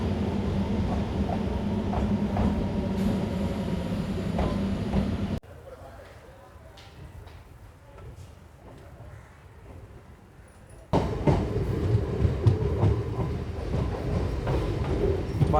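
A MEMU express train runs on rails between Pedana and Machilipatnam, heard from inside as a continuous rumbling roll with wheel clatter; the noise drops quieter for several seconds in the middle before swelling loud again.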